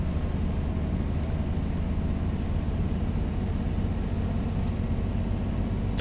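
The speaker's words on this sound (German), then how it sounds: "Da muss der LKW richtig arbeiten." A V8 truck in Euro Truck Simulator 2 labours uphill at about 25 km/h on a road toward Poland, a constant heavy, rumbling engine drone that stays loud and unbroken throughout.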